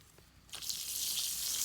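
Water bursting from a pump-fed line on a homestead, a faint click followed by a sudden steady hiss and gush of flowing water that continues evenly.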